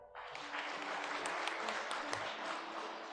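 A Korean church congregation stands and applauds to welcome newcomers during a Sunday worship service, a sustained burst of many hands clapping in a reverberant hall with a few sharper claps standing out.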